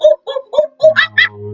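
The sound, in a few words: voice imitating monkey sounds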